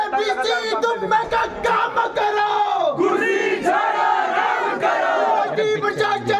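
Crowd of student protesters on a campus chanting slogans in unison, loud, rhythmic shouted call-and-response voices filling the whole stretch.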